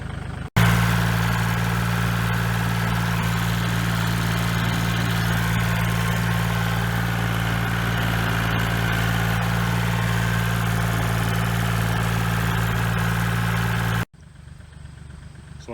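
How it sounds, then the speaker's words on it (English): A tractor engine runs in low range, third gear, while tilling a food plot, a loud, steady droning rumble with constant vibration for about thirteen seconds before cutting abruptly to quieter background. "So I had the tractor in low range, third gear."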